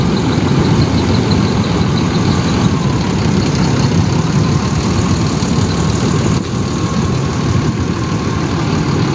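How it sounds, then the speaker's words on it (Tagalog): A truck engine idles nearby in a continuous loud low rumble that holds steady for the whole stretch, with a brief slight dip partway through and no speech. "Kaya may dumating po dito na truck, oh."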